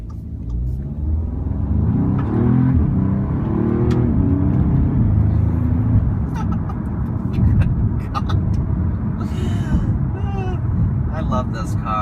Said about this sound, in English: I'm just going to sneak over here for a sec so you can get a little acceleration clip